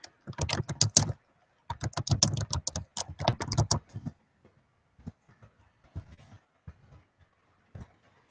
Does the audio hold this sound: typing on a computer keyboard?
yes